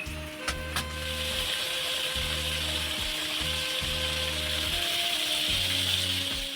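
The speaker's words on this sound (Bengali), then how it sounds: "এদিকে দেখো কাঁঠালটাকে এখন ভালো করে কষিয়ে নিব" Jackfruit sautés in spices in a pan, a continuous close sizzle with faint metallic scrapes of stirring near the start, with no voices.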